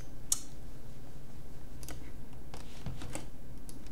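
Code is typed on a computer keyboard in steady, fairly quiet clicks, a sharp key tap near the start followed by scattered keystrokes over a low background hum, with no speech.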